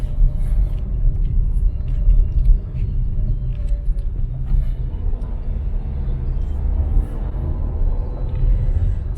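Road traffic in Candoman in the Philippines rumbles steadily with low engine drone from passing cars and heavier vehicles, loud and continuous, with faint talk mixed in.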